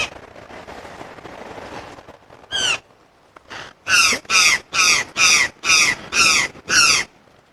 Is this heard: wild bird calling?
yes